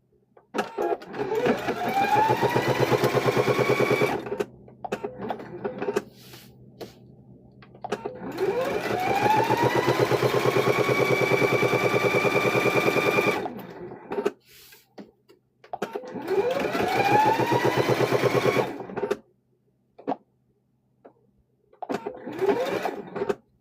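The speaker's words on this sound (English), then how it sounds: "Just going to sew around the seam." A sewing machine stitches around the seam of a pocket on a fabric door stop, running in long bursts that speed up and slow down. Between them are short pauses and quiet gaps.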